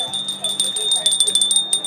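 A decorative hanging bell for home décor, at a Republic Day shopping exhibition in Vile Parle, rings with a steady high sustained tone and a series of soft repeated strikes near the end, amid background chatter.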